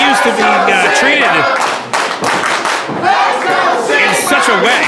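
An indie wrestling crowd in Barre, Vermont roars close and loud, with chanting voices, cheers and scattered clapping that briefly dip before surging again.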